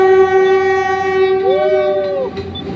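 A PNR train passing in Manila sounds a loud, sustained horn close by with steady tonal blasts and a rising-falling pitch bend in the middle, over rumbling rail noise.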